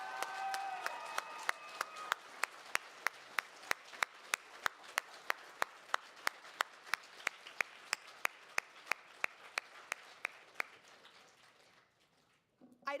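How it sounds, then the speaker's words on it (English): A small banquet audience at a 4-H event claps for retiring officers, a thin patter of applause carrying one very regular, prominent clapper whose evenly spaced beats continue until everything dies away near the end. "big round of applause"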